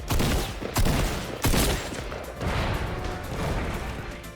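In the Fortnite video game, gunfire shoots down the giant Lard Lad Donut sign: a dense burst of loud, overlapping shots with sharp cracks near the start, then a continuing noisy clatter and rumble.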